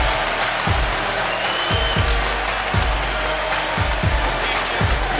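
A basketball arena crowd roars and cheers loudly and steadily during a UCLA vs Cincinnati college game at the renovated Fifth Third Arena, with heavy rhythmic thumps repeating about once a second beneath the roar.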